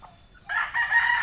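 Hens on a farm give a short burst of clucking and crowing that starts after a quiet half-second and stays fairly close for about a second.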